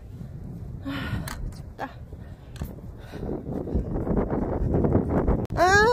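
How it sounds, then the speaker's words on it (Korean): Gusty wind blows across a golf course on a cold spring day, a steady low rumble buffeting the microphone while someone speaks briefly over it. "봄은 왔으나 바람이 불어서 너무 추워요."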